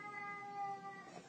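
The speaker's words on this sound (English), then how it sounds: "Please excuse my cat." Domestic cat meowing, one drawn-out, tonal, complaining cry close to the microphone and fairly faint, with no talking over it.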